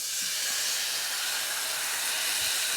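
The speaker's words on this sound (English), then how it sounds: "Cook it up a little bit and Turn then up the heat. yeah, turn it up on high. Make sure it's get a nice little sear to it." Seafood sears in a very hot cast iron pot turned up on high, giving a steady, loud broadband hiss and sizzle that runs unbroken throughout, with a couple of faint low knocks.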